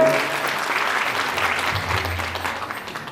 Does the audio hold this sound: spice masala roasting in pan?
no